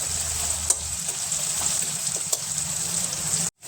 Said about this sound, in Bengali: টমেটো আর পেঁয়াজটা ভালো করে একটু ভেজে নেওয়ার পর, ভেজে নেওয়া হয়ে গেছে